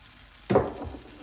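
Uttapam batter landing in a dry, very hot non-stick pan sets off a sudden close, broad sizzle that fades slightly and then flares again at the end, with no talking.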